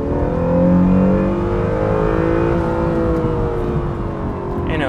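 An Acura NSX sports car engine revs hard and accelerates from a launch-control start, a loud, rising roar that holds steady close by, with no voices.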